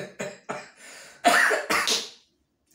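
A person coughs several times in quick succession, short sharp bursts followed by a rougher throaty cough, close and fairly loud, then falls silent.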